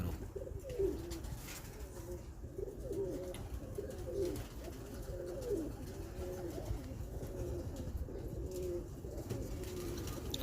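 Breeder pigeons coo in steady, repeated low throaty rolls over a constant rumbling background hum, the calls fairly close and continuing throughout.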